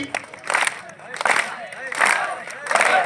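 Audience at an outdoor political rally clapping in repeated bursts, loud rhythmic waves of applause rising and falling about every three quarters of a second, mixed with crowd shouts.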